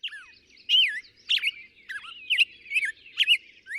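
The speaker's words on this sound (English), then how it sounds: "studies how noise pollution affects birds, like this black-headed grosbeak" A black-headed grosbeak sings a series of sweet, warbling whistled phrases, repeated every half second or so, clear and close against silence.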